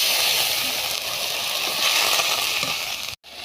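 Onion frying in a pan with chili, turmeric, salt and ginger paste gives a steady, close hiss and sizzle that runs continuously and briefly drops out near the end.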